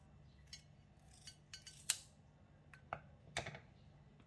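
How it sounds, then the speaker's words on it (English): Kitchen scissors snipping fish fillets into bite-sized pieces, a series of quiet, crisp clicks and snips spaced irregularly against a faint background hum. "For me, it is easier to cut with the scissor,"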